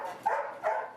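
A rescued dog barks twice close by, two short, clear yips about half a second apart.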